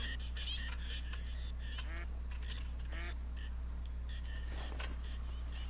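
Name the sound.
birds, ducks quacking, in the video game Call of the Wild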